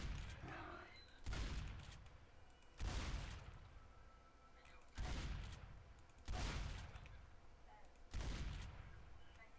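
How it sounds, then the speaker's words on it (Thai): A pump-action shotgun fires in a video game, five loud, booming blasts spaced roughly a second and a half apart, each decaying into a short echoing tail between shots. "ปืนลูกสองแบบปั๊ม"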